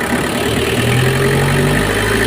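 A Nissan Vanette van engine with a low-power fault runs steadily, a loud, close, even hum held at a constant pitch with no clear revving, and no talk.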